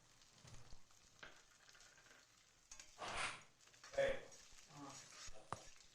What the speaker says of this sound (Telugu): ఆయిల్ వేడెక్కిన తర్వాత ఒక పెద్ద సైజు ఆనియన్స్ 2 తీసుకొని చిన్న చిన్న ముక్కలుగా కట్ చేసి వేసుకోండి.